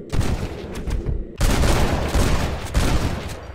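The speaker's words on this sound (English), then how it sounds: "I'm gonna shoot more." Rapid bursts of gunfire from a Red Dead Redemption gunfight crackle loud and dense, nearly continuous volleys with a brief gap before another barrage.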